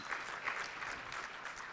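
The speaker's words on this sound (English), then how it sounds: "Guys, round of applause for Daryl." Audience applause at a small gathering, a steady patter of clapping hands held at moderate distance, fairly soft and without voices over it.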